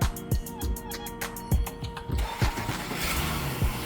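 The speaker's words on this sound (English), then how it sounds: "We're gonna try to start the car." A 2016-2022 Honda Pilot's starter cranks in quick rhythmic pulses and the engine catches after a new battery is fitted, then settles into a steady rumble, loud and close.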